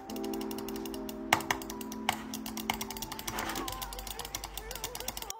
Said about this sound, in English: Here's what the mouse click sounds like.